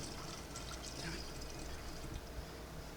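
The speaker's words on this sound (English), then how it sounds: "I'm gonna put some water in this jar here to try to rinse this out a little bit" Water being poured into a used honey jar to rinse it, a steady, quiet trickle and fill running continuously without talk.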